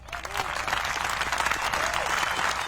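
Crowd of people clapping together, a fairly distant, steady wash of applause with a few faint voices rising through it.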